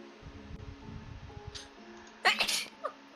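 A single sharp sneeze bursts out near the end during a tabletop game session, preceded by quiet background murmur and small sounds.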